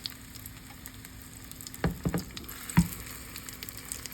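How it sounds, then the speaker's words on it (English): A sweet plantain and salmon empanada fries in a pan over very low heat with a faint steady sizzle, then a few soft bumps and a brief louder crackle as it settles. No one speaks. "Place it in your pan to fry."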